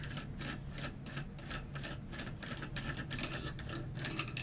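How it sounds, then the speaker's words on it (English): Rhythmic scraping and ratcheting from an armorer's tool working a rifle barrel nut loose, a series of short, fairly quiet rasping strokes close by with no talk. "just using a standard armorer's tool, we're going to break this barrel nut loose"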